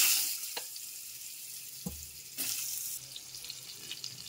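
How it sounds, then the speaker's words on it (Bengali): Potato and pointed gourd fry in oil seasoned with panch phoron, giving a soft hissing sizzle broken by a few splashy bursts and scrapes as pieces go into the pan, close by. "পাঁচফোড়ন ফোড়ন দিয়ে ওর মধ্যে আগে আলু পটলটা ভেজে নেব"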